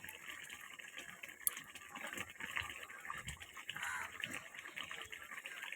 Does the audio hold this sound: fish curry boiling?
yes